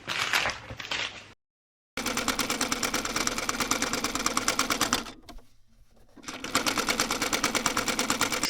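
A serger sewing machine runs with a fast, even mechanical stitching rattle. It stops briefly near the start, dips quieter once in the middle, then resumes at full speed up close.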